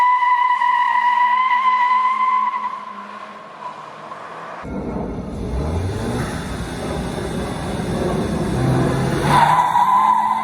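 A 2019 VW Jetta GLI holds its revs on launch control, then breaks away into a loud, sustained screech of spinning tires mixed with a rising engine roar, close by and with no talk over it.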